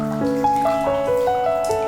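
Falling raindrops strike in a calm, even rhythm, each giving a pure, bell-like drip tone, a run of distinct drops close by against a soft wet background.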